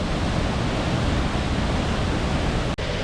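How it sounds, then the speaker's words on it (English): Steady, loud roar of a sunken waterfall at Bridal Veil Falls in Oregon's Columbia River Gorge, a dense unbroken rush of falling water with no voices. "A beautiful sunken in waterfall"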